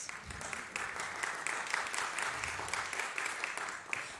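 A congregation at a Sunday church service claps steadily, a soft, even patter of many hands at moderate distance with no talking over it.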